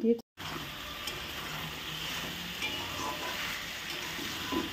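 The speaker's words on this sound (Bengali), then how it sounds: "এবার আমি মশলাগুলো দিয়ে ভালো করে কষিয়ে নিচ্ছি" Whole spices, cinnamon and a dry red chilli, with masala frying in a pan: a constant close sizzle with occasional stirring scrapes.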